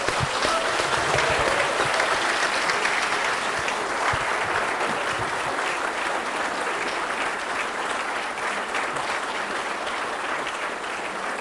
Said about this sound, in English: they certainly deserve a big applause from all of us.